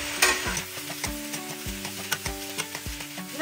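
Chicken and then sausage stir-fried in a pan for pancit: steady sizzling with repeated scraping strokes of a spatula at a quick, uneven rhythm, close and moderately loud, no talking.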